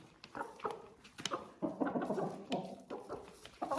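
An Ameraucana hen clucks in short, irregular bursts close by, with scratchy rustling and patter between the calls.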